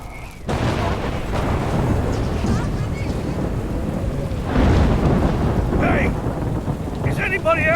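Thunderstorm in the video game Life is Strange Remastered: steady heavy rain with deep rumbling thunder and a louder crack midway, sustained throughout, with brief vocal sounds near the end.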